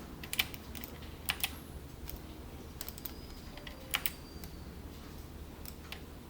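Computer keyboard keys pressed while working in ZBrush, a few scattered clicks and quick doubled taps over faint room hum, quiet and close, with no voices.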